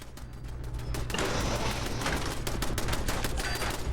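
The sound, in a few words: turret gunfire in video game Fallout 4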